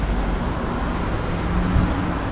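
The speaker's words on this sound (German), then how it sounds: "was ist das für ein Verkehr?" Road traffic noise rumbles as a continuous dense low roar of passing vehicles, steady and fairly loud, with no voices heard.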